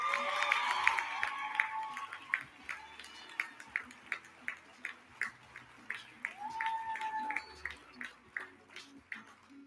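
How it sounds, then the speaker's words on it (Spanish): A graduation ceremony audience gives faint, sparse applause for new graduates in fashion and clothing design, heard as a few distant, evenly spaced claps over a quiet hall murmur. "les pedimos un fuerte aplauso a las ahora egresadas de la licenciatura en Diseño Indumentaria y Moda"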